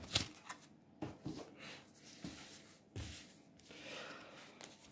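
A 32-card deck is shuffled for a card reading, giving soft riffling bursts and light card slaps at a few irregular moments, quiet and close, with no speech.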